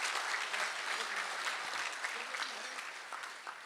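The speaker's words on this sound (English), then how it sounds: "let's give us all a big round of applause as we get this party going" An audience at the 2023 USA Water Ski & Wake Sports Hall of Fame induction ceremony breaks into a full round of applause, dense steady clapping that tapers slightly toward the end.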